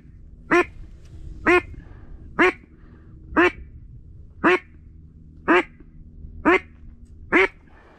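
Ducks at a hunt with decoys give loud, evenly spaced quacks, eight in a row about one second apart, close and clear over a faint background murmur.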